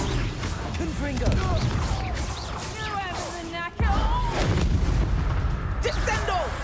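Confringo fire spell blast in Hogwarts Legacy, loud broadband bursts and booming impacts with a brief drop-out midway before the roar resumes, mixed with voice-like game sounds.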